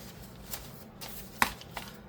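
Paper being folded for a handmade junk journal: a few soft crinkles and one sharper crisp crease, close and quiet, with no talking.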